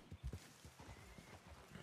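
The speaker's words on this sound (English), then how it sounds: "Just go ahead and stop the horse right here." A horse in the RedM Red Dead roleplay game snorts and blows near the player, followed by a few soft hoof clops as it is brought to a stop; faint and without voices.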